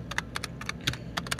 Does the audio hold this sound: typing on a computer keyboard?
yes